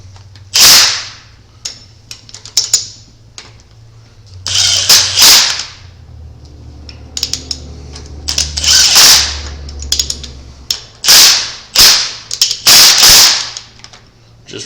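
Bolts being run down by hand on a truck engine, a lifted 1976 GMC K10, make bursts of loud ratcheting clicks in short runs with quiet pauses between them, close up.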